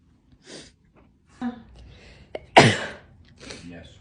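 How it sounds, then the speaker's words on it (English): One sharp, loud sneeze bursts out close by after quieter breaths, gasps and a brief vocal sound, followed by soft breathing. "Are you sneezing on me?"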